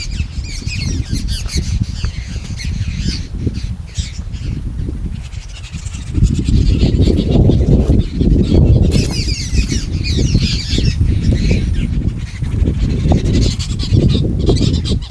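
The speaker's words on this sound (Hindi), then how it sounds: "लड़ पड़ी हैं चिड़िया, देखिए कितना गुस्से में है।" Birds squawk and screech harshly again and again, a noisy, agitated clamour that grows louder partway through.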